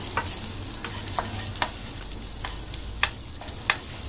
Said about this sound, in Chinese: 就咁直接一陣炒糯米就得噶啦